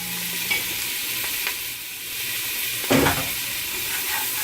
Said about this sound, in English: And I'm going to kind of stir that up so the seasoning marries in there.